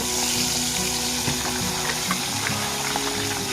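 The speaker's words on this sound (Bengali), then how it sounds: "মুড়োগুলো এখন ভাজা হবে" Fish heads frying in hot oil, a dense, even, close sizzle that holds steady throughout with a faint low hum beneath it.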